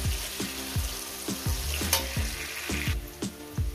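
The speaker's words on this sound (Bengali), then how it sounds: "এটাকে আমি 4-5 মিনিট ধরে ভেজে নেব।" Potatoes fry with banana flower in a pan for a banana-flower and katla fish head curry, a steady close sizzle broken by regular scraping stir strokes roughly twice a second.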